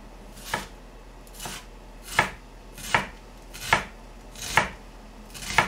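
An onion is chopped with a knife, probably on a cutting board in a home kitchen, while Korean japchae is being prepared. Seven crisp, evenly spaced knife strokes land about one per second, close and distinct over a quiet background, with no talking.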